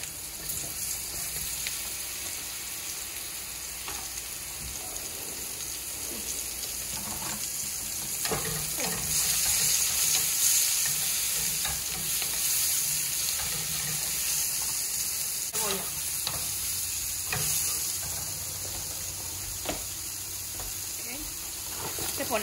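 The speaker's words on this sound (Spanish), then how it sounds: "vamos a poner a dorar los hongos" Mushrooms browning in a very hot pan give a steady, fairly quiet sizzle and crackle throughout, with occasional clinks and faint kitchen noises over it.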